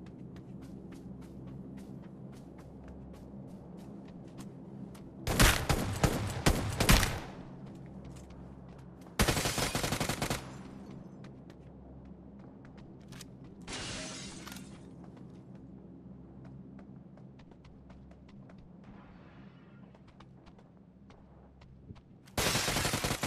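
Gunfire in the mobile battle royale PUBG New State: rapid automatic bursts arrive in loud clusters, with a shorter distant volley and a final burst, separated by quieter stretches of steady background hum.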